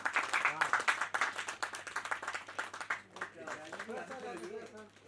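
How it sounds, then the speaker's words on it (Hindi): An audience at a ghazal music event claps loudly in quick, bright bursts for the first few seconds, then the clapping thins out as a voice starts talking. "तालियां एक बार जोर से।"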